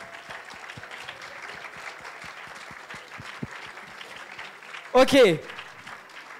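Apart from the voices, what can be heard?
audience applauding the prize winners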